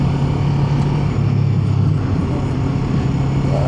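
A Kawasaki Ninja 7 HEV hybrid motorcycle pulls away hard on e-boost, its engine a loud, close, continuous drone with steady wind rush and no talking.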